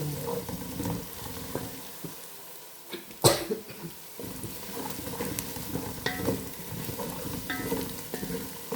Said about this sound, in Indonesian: Lama ya sahabat goreng bawang merahnya